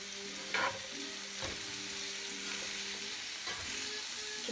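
Peppers sizzle in a hot pan as they are stirred, a steady quiet frying hiss broken by a few soft scraping and clinking strokes of the utensil.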